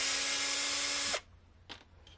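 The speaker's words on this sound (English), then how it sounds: "remove the screws that hold the panhard mount in." A power drill backs out screws from the panhard mount of a Redcat Everest Ascent RC crawler, one loud close whirring burst that stops abruptly, followed by a couple of faint clicks from handling parts.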